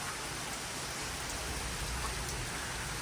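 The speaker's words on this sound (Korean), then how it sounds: "비가 와주네요" Rain falls steadily on a garden with trees, a dense continuous patter and hiss of drops at even loudness throughout, with no voices.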